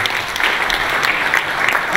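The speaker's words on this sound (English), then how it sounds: "Let's hear you clap your hands" An audience claps hands in dense, continuous applause, loud and close, sustained evenly through the stretch at a product unveiling for the B&O Play A6 speaker.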